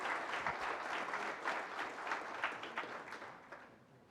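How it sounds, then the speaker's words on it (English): A convention audience gives sustained applause, many hands clapping in a dense, even wash that fades slightly toward the end, fairly faint overall. "Can we give a big round of applause,"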